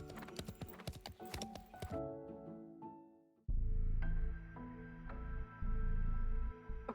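Horse hooves clip-clop in a steady rhythm in the video game Love and Deepspace, then stop as the scene shifts to quieter tones and a low ambient drone with a whinny-like cue.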